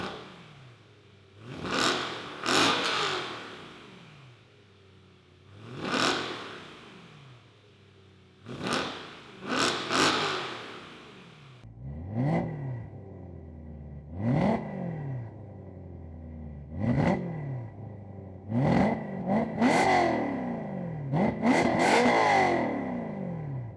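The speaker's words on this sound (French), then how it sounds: "il est temps de faire quelques accélérations à l'arrêt" A BMW M3 fitted with a new exhaust line is revved repeatedly while stationary, about nine sharp blips rising and falling, each snarling up then dropping back to a burbling idle, loud and close with no talk.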